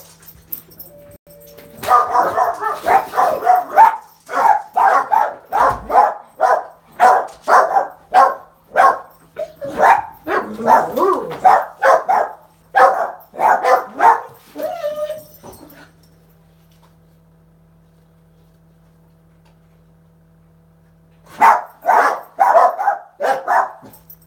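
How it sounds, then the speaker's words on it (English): Dogs bark at a delivery in rapid, loud, close bursts of yips and barks for about fifteen seconds, then fall silent before a second barking burst. "My doggies are going to go crazy."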